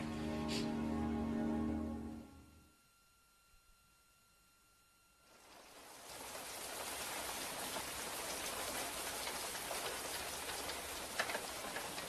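Steady rain pours after a brief quieter gap, a dense broadband hiss of drops on surfaces that holds loud and even for the rest of the stretch, with no talk.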